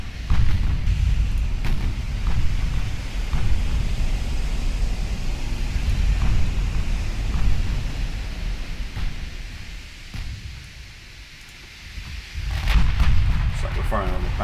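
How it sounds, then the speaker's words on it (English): Heavy naval gunfire from Ultimate Admiral Dreadnought, a battleship's 15-inch guns firing at a battle cruiser while secondary guns engage a battleship, booming in repeated deep blasts over a constant rumbling battle background. "firing on the battle cruiser just now"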